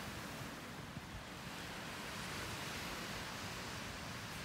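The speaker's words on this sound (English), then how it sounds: "How fun would it be just to listen to the waves and sit in that hammock?" Ocean surf washes steadily onto the beach at the El Dorado Casitas resort, a dense, continuous roar with light wind buffeting the microphone and no voices.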